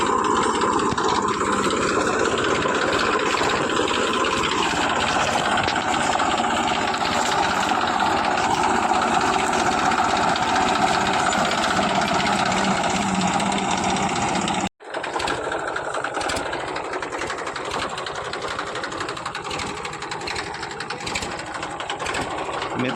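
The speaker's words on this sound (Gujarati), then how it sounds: "આ આપણું 35 વર્ષ જૂનું ટ્રેક્ટર છે." A 35-year-old tractor hauling a loaded farm cart runs with a steady, rattling engine drone, loud and continuous, cutting out for an instant midway before carrying on.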